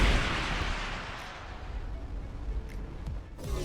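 Missiles launch from a spaceship in the space game Starcom Unknown Space: a loud whooshing blast at the start fades into a rumbling roar, followed by a few faint, distant thuds.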